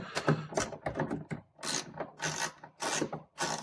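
A ratchet backs out the airbox screws on a BMW M3 E9X, giving several quick bursts of close, crisp clicking separated by short pauses.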